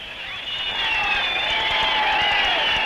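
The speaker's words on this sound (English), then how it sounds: "Parmentier and Moll also get an enthusiastic reception from the crowd." A street crowd cheering aviators passing in a procession, a continuous distant roar of voices with shrill whistling and shouting, steady and dense, recorded with old film-era hiss.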